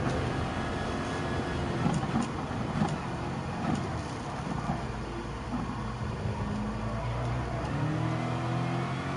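Race car engines droning steadily in the racing game GT Sport on the Nürburgring, a close battle with a Subaru, with a continuous buzzing engine note that rises and shifts in pitch.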